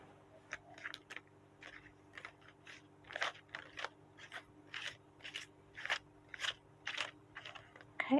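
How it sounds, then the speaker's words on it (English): Tarot cards being shuffled and pulled, a string of soft, close crisp card snaps and rustles in an uneven rhythm, about a dozen distinct strokes over a quiet low hum. "Let's keep pulling cards to see what this is all about."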